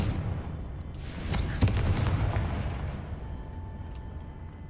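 Explosive blasts from the Confringo spell in the Hogwarts Legacy video game, a burst of booming bangs at moderate distance followed by a fading rumble, with no talk over it.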